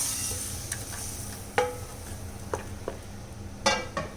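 Plantain, cashews, raisins and an egg-milk mixture stirred together in a hot pan, a low sizzle beneath a few distinct scraping clinks of the spoon against the pan, close up.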